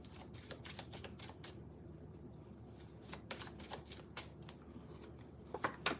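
Playing cards pulled and shuffled from a deck during a tarot-style reading, heard as a run of quick, crisp riffling clicks and soft slaps, close by, with short pauses between bursts and no talking.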